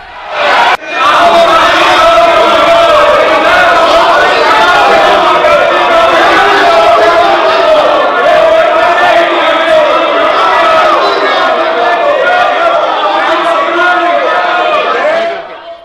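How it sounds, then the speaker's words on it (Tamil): Dense shouting and uproar from many voices fill the Indian parliament chamber, a loud, continuous crowd din that holds steady for about fifteen seconds with no pause. "இரண்டு கட்சிகளின் தொடர் கூச்சல் மற்றும் குழப்பத்தால் நாடாளுமன்ற அவை நாள் முழுவதும் முடங்கியது"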